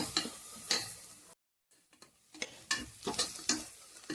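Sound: onions being sautéed and stirred in pan

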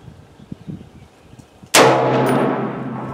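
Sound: 6.5 Creedmoor rifle firing 130 grain bullets

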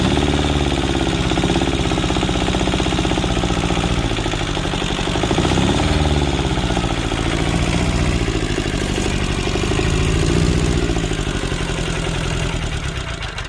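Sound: diesel engine revving

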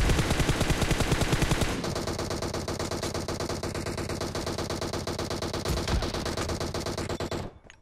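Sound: gunfire in video game PUBG Mobile

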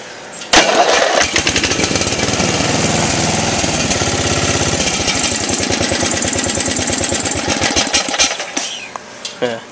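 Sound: Briggs & Stratton small engine starting with a converted electric starter

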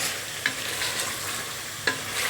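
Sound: stirring garlic in a pot

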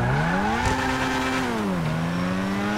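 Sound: newest Ferrari car driving in a video game

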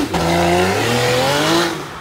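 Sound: supercar engine screaming while revving

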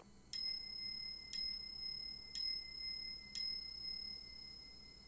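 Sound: bell ringing in video game Pitch Black

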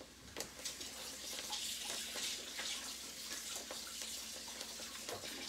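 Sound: rinsing garlic under running tap water

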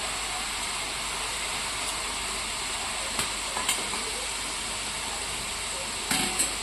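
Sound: sev frying and sizzling in hot oil

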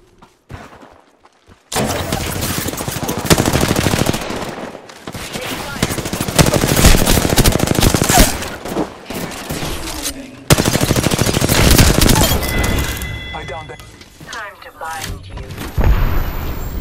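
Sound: gunfire in Apex Legends video game

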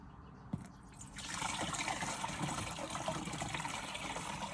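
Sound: pouring out water

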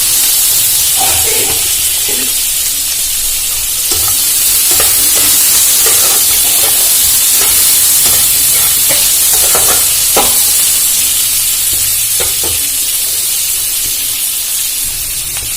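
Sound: chopped onions frying and being stirred in hot oil

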